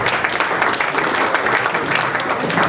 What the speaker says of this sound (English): let's get another big round of applause going